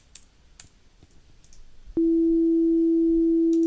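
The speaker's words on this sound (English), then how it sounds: "We hear a lower tone." A steady, lower-pitched pure test tone switches on abruptly and holds at constant loudness, with faint clicking beforehand.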